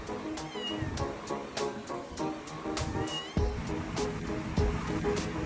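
A cat at the roadside meows repeatedly in short, insistent cries, fairly close, over a steady rushing outdoor background.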